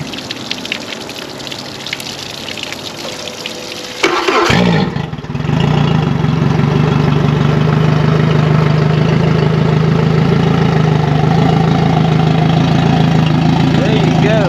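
A Yamaha 150 outboard engine fires up on an earmuff water flusher and settles into a loud, steady idle with rushing water, after a person's brief talk beforehand.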